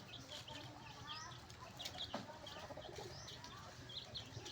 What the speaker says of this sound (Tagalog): Yan, may kalapati pa.